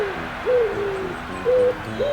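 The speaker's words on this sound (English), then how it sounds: "This pigeon, who calmly watched Neuer's warm-up routine and was then shooed away by a staff member and then came back again" A pigeon coos inside the Allianz Arena football stadium, giving several clear, rising hoot-like calls in a steady repeating pattern over low stadium ambience.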